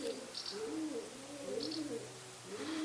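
Pigeons living in a tower of Czersk Castle coo softly in a steady, repeating rolling rhythm against a faint background hum.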